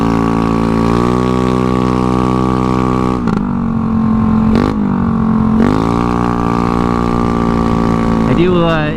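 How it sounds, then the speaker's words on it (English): A Honda Ruckus scooter's engine and exhaust while riding, loud and close with a steady buzzing drone that rises and dips as the throttle shifts, and a brief rev near the end. "I do admit I do like the sound of the exhaust, only when I'm moving forward."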